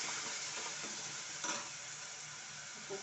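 Sprouted moong are added to a pan with tomato for a pulao, giving a soft, steady sizzle broken by occasional scraping stirs, fairly faint and without speech.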